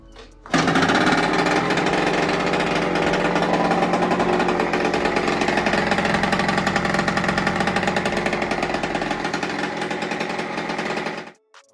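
A rebuilt Aprilia SR50 50cc two-stroke moped engine runs loud and close, a busy buzzing drone that starts abruptly, holds steady with slight revving unevenness for about eleven seconds, then cuts off.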